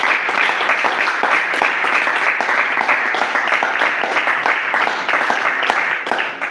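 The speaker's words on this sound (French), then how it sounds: "Acclame plus fort possible." A church congregation applauds loudly, with dense, steady clapping filling the whole stretch and a few faint voices mixed in.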